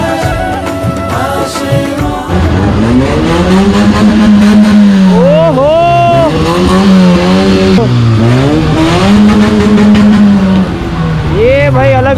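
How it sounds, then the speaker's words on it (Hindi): Loud exhaust on a vehicle at a Durga Puja pandal on Public School Road, Silchar, revving hard in repeated rising and falling sweeps, close and dominant over the crowd noise for most of the stretch. "तबाही वाला एग्जॉस्ट।"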